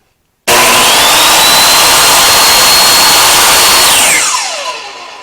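A DeWalt DWE7485 compact table saw switches on abruptly and runs with a loud, harsh, high-pitched whine, then winds down as it is switched off, the motor tone falling away near the end.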